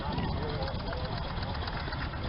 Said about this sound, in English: first tractor coming up is a BF Avery.